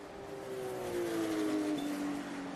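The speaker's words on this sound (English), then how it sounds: "Nothing better than to hear these cars doing what they were made to do." Historic race cars at Laguna Seca during the Rolex Monterey Motorsport Reunion, a single engine note heard from a distance that climbs and then shifts pitch as the car passes, with no talk.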